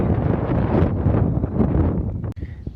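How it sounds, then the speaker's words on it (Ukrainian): Strong gusty wind roars and buffets the microphone steadily while riding outdoors through grassy countryside, loud and close, ending with a sharp knock and brief quiet. "Ну Вітер, звісно, такий жорсткий, видно по траві."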